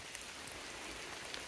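Steady rain falling during an outdoor walk, a dense, even hiss of drops on surfaces filling the whole moment with no voices.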